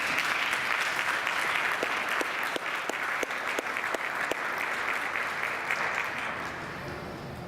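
Steady audience applause fills the room at an MLK event in Ottawa, dense and sustained throughout with a few sharper individual claps standing out, tapering slightly near the end.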